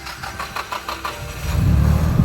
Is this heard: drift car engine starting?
yes